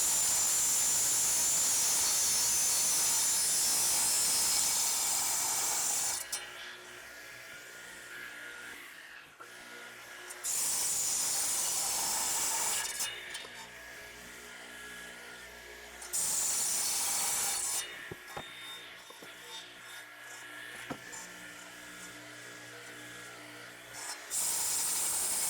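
A power saw cuts through wood in a workshop in three or four long, loud passes, the high whining cut stopping between passes to a quieter motor hum, with no talking.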